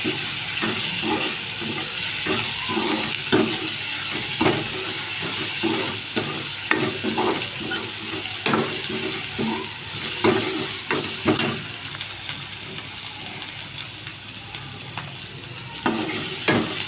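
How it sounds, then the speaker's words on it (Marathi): Tomatoes frying in oil in a pan while cooking dal khichdi, a steady close sizzle broken by repeated scraping stirs that recur throughout. "टॅमॅटो पण आपण चांगला भाजून घेणार आहे तेलात."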